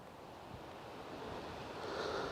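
Creek water flowing in a steady, close broadband rush that grows slightly louder toward the end, with no voices over it.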